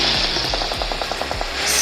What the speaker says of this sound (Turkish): Silah ses hardan gəlir oraya.